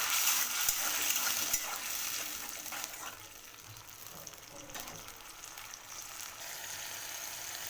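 Ginger garlic paste frying in hot oil for mustard hilsa, a steady bright sizzle that starts loud and settles into a softer continuous crackle, with occasional small clinks.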